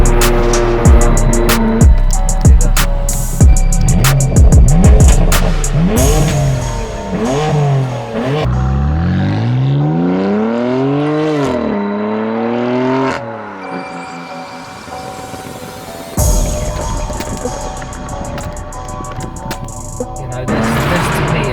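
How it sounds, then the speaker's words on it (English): A BMW M3 F80 with a loud Frequency Intelligent exhaust revs hard and close, with sharp repeated blips and crackles, then long sweeping climbs and falls in pitch, ending in a steady loud drone with no talk. "this frequency intelligent exhaust system is absolutely incredible"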